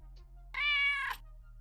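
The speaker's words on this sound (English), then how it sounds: "You heard the cat?" A single clear cat meow triggered as a stream sound alert, about half a second long and fairly loud over a low steady background hum, with no voices.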